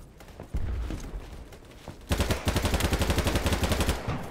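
Gunfire in Battlebit Remastered: a couple of single shots ring out, then a sustained burst of rapid automatic fire with evenly spaced, punchy reports, loud and close.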